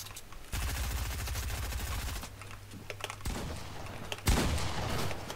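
Pump shotgun fire in a video game, with several close blasts and bursts against steady clattering game noise. No voices are heard.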